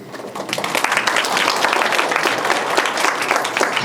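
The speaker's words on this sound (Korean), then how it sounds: "별로 듣고 싶지 않으신 박수 소리인데요." Audience applause at a Korean university research presentation on disability activity support services, a dense, steady clapping from a seated crowd that swells after a brief start and holds for several seconds.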